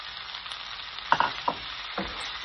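Beef added to a pan of golden-browned onion and tomato sizzles steadily, with a few sharper crackles and spatters around the middle as the meat hits the hot oil. Quiet and close, with no talking.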